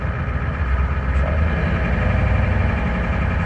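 A car engine with a timing advance toggle switched on runs at a steady, rough low rumble at modest revs, close and continuous without talk.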